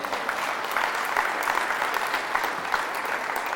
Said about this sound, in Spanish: Dele fuerte el aplauso al Señor.